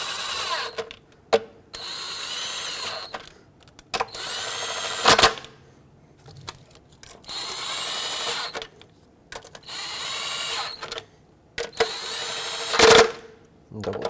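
Bolts on a throttle body bracket of a Ford Flex being run in snug with a power driver or ratchet, several short bursts separated by pauses, close by and fairly loud.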